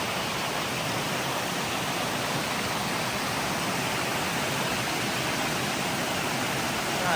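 Rushing water of the Norway Rapids at a river crossing, a loud continuous broadband roar that stays steady and close throughout, with no voices.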